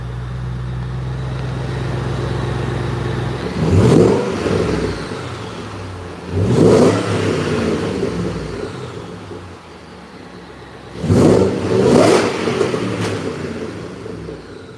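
A car engine hums steadily, then surges in several loud rev bursts that rise and fall, with a rough, aggressive tone between quieter stretches.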